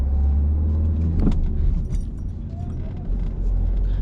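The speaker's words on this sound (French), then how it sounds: "On accélère doucement et on met la 2" A car accelerating gently as the driver shifts into second gear during a driving lesson, a steady low engine rumble with a brief clunk of the gear change midway, faint voices murmuring underneath.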